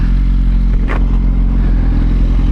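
A 2018 Suzuki GSX-R1000 with a G2 throttle tamer fitted, accelerating out of a corner with a loud, deep, continuous engine roar heard close up, mixed with heavy wind rush.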